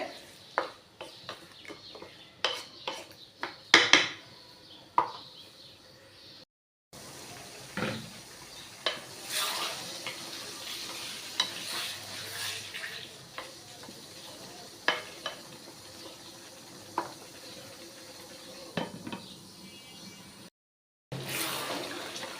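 Potatoes being sautéed and stirred in a pan, with a soft background sizzle broken by repeated sharp spatula scrapes and clatters at an irregular pace.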